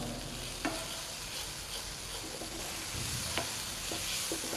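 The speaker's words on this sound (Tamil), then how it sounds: "இப்போ இந்த லீக்ஸு செல்லரியும் லைட்டாக கலர் மாறுற அளவு வரையும் அதை வந்து இதில் வதக்குங்க." Leeks and celery sautéing in a pan, a steady soft sizzle with occasional light clicks of a spoon stirring, close and continuous without talk.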